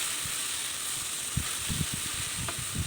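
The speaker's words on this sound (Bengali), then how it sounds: "দিয়ে আবারও নেড়ে চেড়ে আচারটা জাল করে নেব।" Raw mango pickle cooks with fried spices in a pan, giving a soft, steady sizzle and hiss, with faint stirring taps and scrapes now and then.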